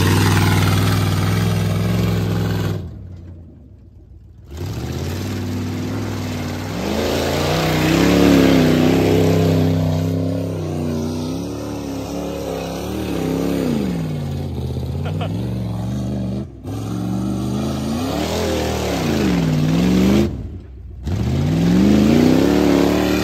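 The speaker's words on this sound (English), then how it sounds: "I think she's due for a tire roast" A Dodge car doing a burnout, its engine revving hard in repeated rising and falling surges with brief cutoffs, tires spinning, loud and close outdoors, with a person talking in between.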